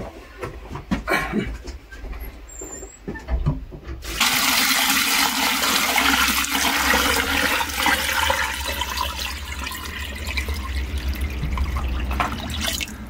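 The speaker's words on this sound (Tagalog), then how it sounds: "Punuin natin to ng tubig." Water pouring from a tap or hose into a container of salted cabbage, a steady rushing gush that begins abruptly and keeps running for several seconds after some clattering handling noises.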